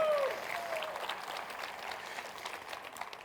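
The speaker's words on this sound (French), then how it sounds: "Voulez-vous applaudir celui qui est venu et qui va revenir?" A church congregation applauds, a dense, steady wash of clapping that fills the room from start to finish and fades slightly toward the end, with no talk over it.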